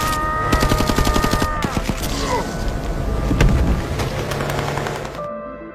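Film gunfire from guards, rapid bursts of automatic shots rattling continuously and loudly over a tense music score, with sustained tones beneath the barrage.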